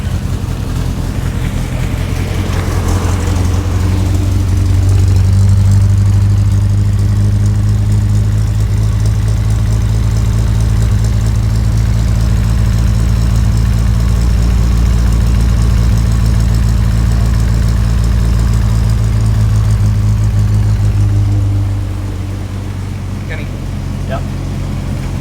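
An old Morgan car with a Triumph engine idles roughly, a loud, low, uneven rumble close by that holds steady for about twenty seconds before easing off, with voices talking over it.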